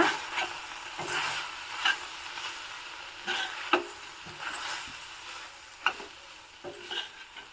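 A spoon stirs ground spice powder into a cooking mixture in a pan during a traditional Brahmin-style recipe, giving scraping strokes at a loose rhythm over a soft sizzle, close and fairly quiet with no talking.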